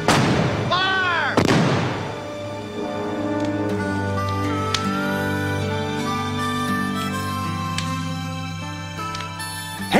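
Artillery cannons fire in an American Civil War battle scene, a loud booming blast near the start followed by a second heavy boom, then a sustained ringing, tonal swell carries on beneath for the rest.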